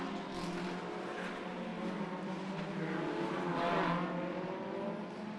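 Race cars lap the Macau Grand Prix street circuit during qualifying, their engines droning and revving at a distance in a steady, blended roar with a car swelling past near the middle.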